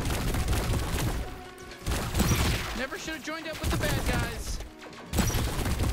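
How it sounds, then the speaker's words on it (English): Enemy gunfire in the shooter game High On Life, a busy barrage of shots and blasts mixed with game effects and music, loud and continuous, while a player talks over it. "there's so many shooting at me now."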